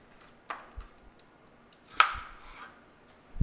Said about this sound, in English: And then just take your knife and 1/2 inch slices like so.